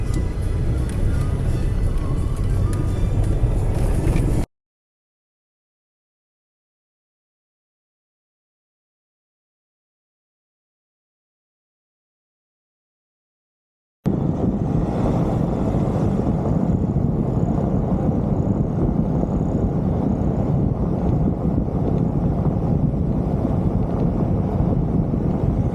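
Motor engine running at a campsite, a loud steady drone with wind buffeting the microphone, cutting out into total silence for several seconds before the same dense rumble returns and continues.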